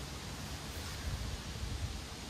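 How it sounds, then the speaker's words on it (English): Wind blowing outdoors in a cold Arctic field setting, a steady low rushing roar with slight gusty swells, with no other sounds over it. "You guys can probably hear the wind in the background."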